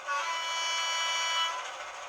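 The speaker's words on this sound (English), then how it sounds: "And 3 is the low tone horn." Low tone horn of a Heljan Class 33 model diesel locomotive with sound, one sustained, buzzy blast lasting well over a second before fading, loud and near with no speech over it.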